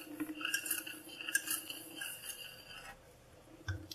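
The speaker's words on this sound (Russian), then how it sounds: "Перемешиваю." A utensil stirs egg yolks with sugar, corn starch and vanillin in a bowl, producing faint, quiet clinks and soft scraping taps at an irregular pace, close by with no speech.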